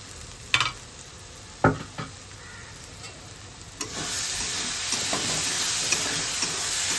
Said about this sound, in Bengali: এবার এখন এটা ভালো করে কষাতে হবে মশলাটা।